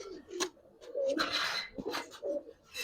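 Giribaz pigeons coo repeatedly at close range, their low rolling calls overlapping with flutters and other bird noise in a busy loft.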